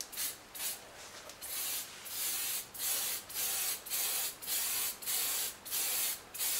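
An airbrush sprays paint onto a champagne bottle cake in short hissing bursts, about eight passes separated by brief pauses, fairly close and soft.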